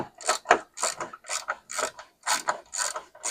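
A ratchet wrench clicking as it turns during a shock absorber replacement: repeated bursts of quick metallic clicks in a steady back-and-forth rhythm, close and clear, with no talking.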